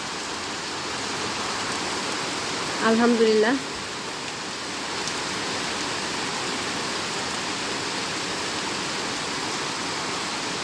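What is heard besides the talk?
rain falling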